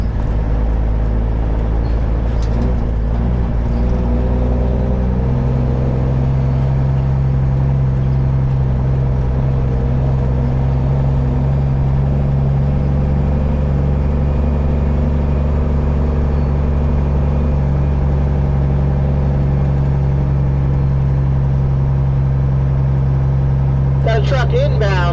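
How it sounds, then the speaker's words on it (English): A semi truck rolls through a wooded area, its steady low engine drone and road rumble continuous throughout and fairly close, with some faint rattles and a brief higher noise near the end. "Literally driving a truck into the woods."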